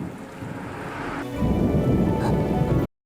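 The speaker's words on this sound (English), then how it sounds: "the thunder in the first scene sounds quieter than in Origins." Heavy rain pours down in an animated cartoon scene, then a loud rumble of thunder swells over it midway. The sound cuts off abruptly into silence.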